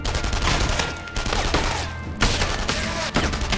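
Gunfire in the WWII shooter Enemy Front, a dense, continuous fusillade of overlapping shots filling the scene at steady loudness, with no talk over it.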